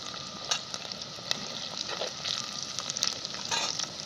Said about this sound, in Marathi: कांदा तळत आल्याच्यानंतर मी आलं लसणाची पेस्ट टाकून घेतली